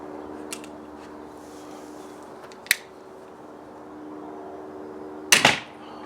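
Junxing Drakon supersonic crossbow firing a 6.5 inch pistol bolt with an adjusted flight, heard as a sharp twang and impact burst near the end, with a smaller click earlier over a steady low hum.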